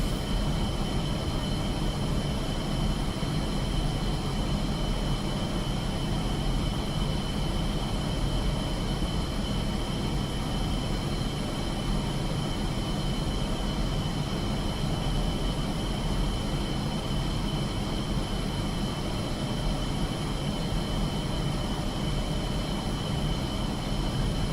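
MiG-29S jet taxiing in the DCS flight simulator on the Caucasus map, a steady, unchanging engine drone with a high whine, continuous and close with no voices.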